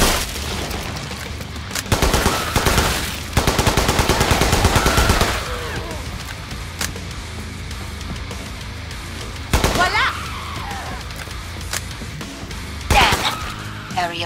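Gunfire against zombies in Killing Floor 2: loud bursts of rapid automatic fire with separate single shots and pauses, mixed with game effects and a voice speaking at times.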